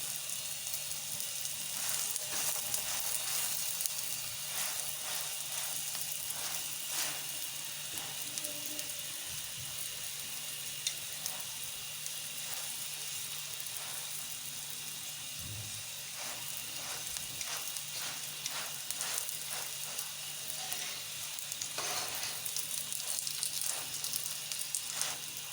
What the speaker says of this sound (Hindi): इसको बराबर हिलाएंगे ताकि जो इसके अंदर घी है वो इसको एक जैसा, दूसरी साइड से एक जैसा ब्राउन है।